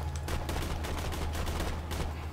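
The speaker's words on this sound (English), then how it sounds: "This is pretty much a sniper rifle machine gun." Rapid bursts from a sniper-rifle-style machine gun in Borderlands 2, a loud fast stream of sharp shots with brief gaps, up close and alone.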